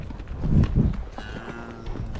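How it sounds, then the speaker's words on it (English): Cattle sounds from a herd nearby, with low lowing calls and general livestock noise rising and settling over a couple of seconds. "He's got some cows heading our direction."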